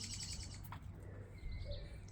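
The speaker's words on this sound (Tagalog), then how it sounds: "punong kahoy, maraming ibon, oh. Nandito sila kasi nangingain, naghanap ng makain" Faint bird chirps and calls come from among garden trees over a constant low hum, with several short tweets scattered through the stretch.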